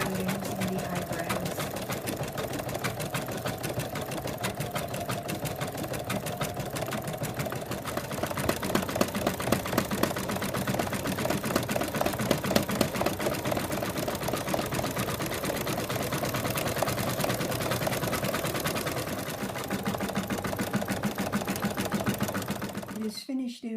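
An embroidery machine stitches out black eyes and eyebrows on a teddy design, a fast continuous mechanical chatter with steady rhythm heard close up for the whole stretch, briefly louder in the middle, with a voice talking over it.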